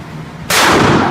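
A single loud rifle shot cracks at an outdoor shooting range, sudden and close, with a broad boom trailing off after a quiet lead-in.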